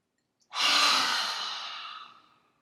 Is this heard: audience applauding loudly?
no